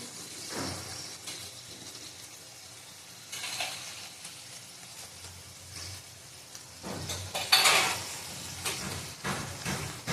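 Spices with turmeric and Kashmiri chili powder sautéing in a pan for Bengali chicken kosha, a soft low sizzle with occasional stirring scrapes and a louder burst near the end, no talking.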